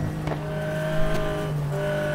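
A Porsche 996 GT3 race car drives a qualifying lap at Spa in the racing game GTR 2, its engine holding a steady loud drone with a brief tire squeal partway through.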